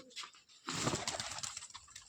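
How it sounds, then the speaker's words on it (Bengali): Steel-coloured pigeons coo in a loft, a soft, fairly close burst of throaty cooing that swells after a brief quiet start and carries on steadily. "আনকমন কবুতরগুলো দেখলাম অনেকদিন পরে।"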